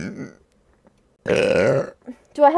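A long, loud, voiced burp from a streamer rings out close to the microphone, with bits of speech before and after.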